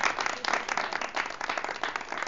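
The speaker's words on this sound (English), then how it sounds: "Judges, round of applause for Terri." Judges and audience applaud a person being introduced at a Panasonic Kid Witness News event, a steady, dense patter of clapping that holds at moderate level throughout without pause.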